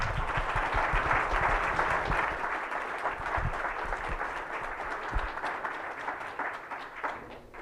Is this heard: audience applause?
yes